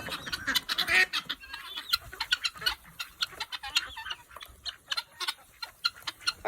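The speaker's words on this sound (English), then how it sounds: "All of our laying hens, the ducks." A busy chorus of laying hens clucking and ducks quacking close by on a homestead, dense and overlapping, with short sharp calls in quick succession.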